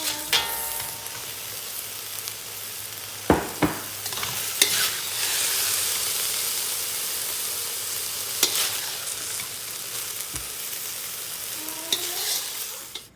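Onions frying and being stirred in a pan with canola oil for shaking beef, a steady sizzle broken by scraping stirs and occasional utensil clinks, close and alone.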